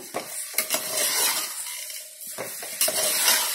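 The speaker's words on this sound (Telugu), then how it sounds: "మనం ముందుగా తయారు చేసుకొని నానబెట్టుకున్న ఈ బియ్యాన్ని దీంట్లో వేసేసి మిక్స్ చేసుకోవాలన్నమాట" Soaked rice is stirred into a pot of paneer biryani, with scraping and clinking of a spoon against the pot, irregular bursts and light sizzling between them, and no talk.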